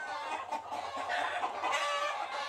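Fighting roosters clucking on a vanilla plantation, a steady run of overlapping clucks and throaty calls at close range, filling the whole stretch without any talk.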